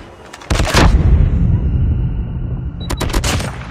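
Call of Duty Mobile on an iPhone 13, Drop Zone mode on the Shoot House map: a loud grenade blast rolls out for several seconds, and a few sharp gunshots crack near the end.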